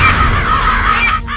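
Crows caw loudly and close, their harsh calls overlapping in a continuous burst.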